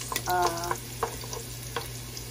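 Garlic fries in a pan with a close, crackling sizzle, a short burst of spatula stirring and a few sharp taps over about two seconds.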